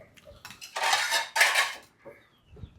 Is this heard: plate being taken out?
yes